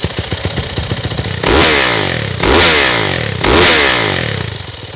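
A Yamaha YZ450F dirt bike engine idles in a fast, choppy thump, then revs hard three times in rising snarling bursts before dropping back, loud and close with no talking.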